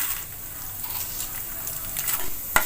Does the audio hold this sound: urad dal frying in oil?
yes